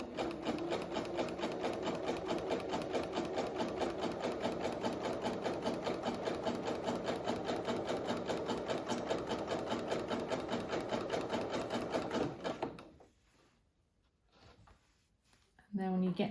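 A sewing machine gathering fabric, running in a long steady rhythmic whirr for about twelve seconds while the fabric is stretched and fed, then stopping to near silence with faint handling sounds.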